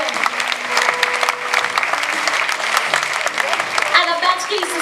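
Applause from a concert audience at a swing music festival, steady clapping filling the room for several seconds with a few brief voices and a short horn-like tone near the end.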